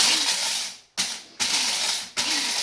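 An electric coffee grinder runs on whole coffee beans for French press coffee in three close, loud whirring bursts separated by short silent breaks.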